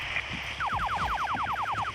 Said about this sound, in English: Alarms coming in.